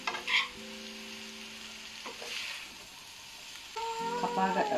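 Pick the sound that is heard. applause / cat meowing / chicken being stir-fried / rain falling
chicken being stir-fried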